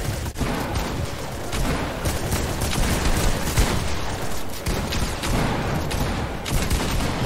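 Pump shotgun blasts and other gunfire from a Fortnite duo tournament match, a dense continuous barrage of loud, overlapping shots with booming impacts filling the whole stretch.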